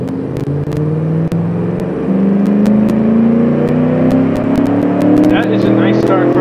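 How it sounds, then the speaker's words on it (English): Simulated pickup drag truck in the BeamNG driving game launching off the line, its engine note climbing steadily in pitch as it accelerates hard, loud and close, with sharp clicks and a voice talking over it. "That is a nice start for a pickup truck."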